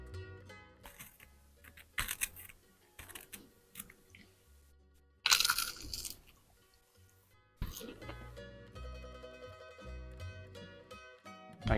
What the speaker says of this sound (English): scratch it and then crunch it right at your microphone